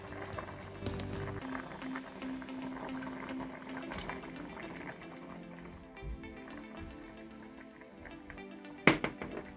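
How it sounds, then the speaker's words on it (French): Limpets are tipped into a pot of bubbling water, oil, salt and vegetables. A steady, close boiling and sizzling texture runs throughout, and a sharp clatter comes near the end. "C'est en train de bouillir, donc je vais mettre mes patelles."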